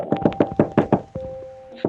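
Six quick, sharp knocks on the door of a house, evenly spaced and close, then a faint tone lingering and one more soft tap at the end.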